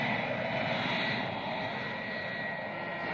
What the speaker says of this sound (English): these airplanes fly even when it's 40 below zero